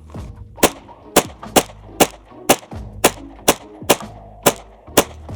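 A Glock 26 pistol fires Aguila 124 grain full metal jacket rounds, about ten sharp shots in a steady, evenly spaced string at close range, each one loud and punchy and followed by a short decay, with no speech.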